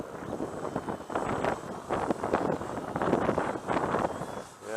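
Wind gusts buffet the microphone outdoors on a windy day at an RC airfield, loud rumbling blasts rising and falling with faint rustling throughout, no clear talk.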